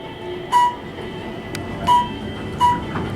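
Elevator cab making a non-stop ride at the Marriott Marquis in Atlanta: a low steady hum with soft rushing air, broken by three evenly spaced bright tones and brief whooshes.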